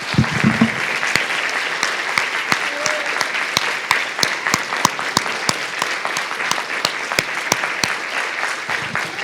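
A church congregation applauds at a worship service to imitate the sound of heavy rain, producing a close, loud, sustained patter of clapping with many sharp individual claps standing out.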